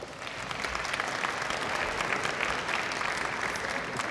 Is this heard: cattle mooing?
no